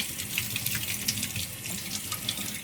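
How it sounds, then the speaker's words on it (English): Tap water running steadily into a kitchen sink while leeks are rinsed, a constant close splashing hiss with small irregular spatters and no voices. "Giving my leeks a wash now."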